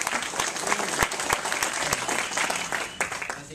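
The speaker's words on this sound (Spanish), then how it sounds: "Démosle un aplauso" Audience applause during a conversation event, a dense round of clapping with a few loud, close claps popping out over the steady crowd patter.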